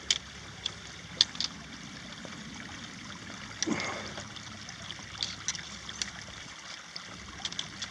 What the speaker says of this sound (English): We're coming across a creek here.